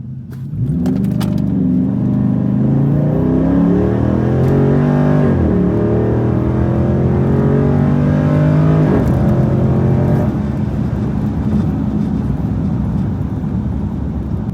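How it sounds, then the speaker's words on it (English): A 392 HEMI Dodge Charger does a burnout at a drag strip, its loud, close engine roaring and revving with rising and falling pitch, then settling into a harsh rough rumble. "Burnout, clean the stones."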